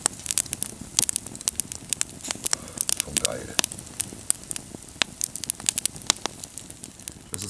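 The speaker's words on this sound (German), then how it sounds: "Man hört ganz leise die Straße im Hintergrund und eigentlich dominiert das Knacken des Feuers." A campfire in the forest crackles with loud, irregular pops and snaps close by, scattered densely over a soft background hiss.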